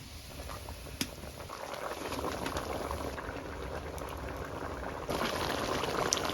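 A pot of tular dandi river fish curry broth with potatoes bubbling at a steady, gentle boil, a soft continuous burble with one small clink near the start.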